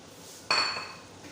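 A single sharp metallic clink of a utensil striking a cooking pot while stirring carrots into potatoes, bright and ringing, then decaying quickly into quiet.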